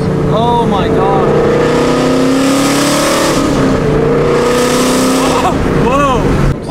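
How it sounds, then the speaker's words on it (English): Ford Mustang with a flame-spitting exhaust, its engine note dropping and rising through repeated downshifts while driving; loud, close, with overlapping rev sweeps and brief blips near the end. "just listen to the downshifts"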